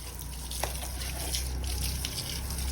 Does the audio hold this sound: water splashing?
yes